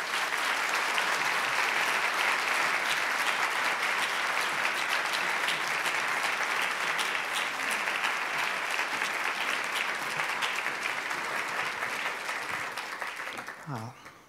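A law school lecture audience applauds to welcome the speaker, with steady, dense clapping from a sizeable crowd that holds for about thirteen seconds and then tapers away.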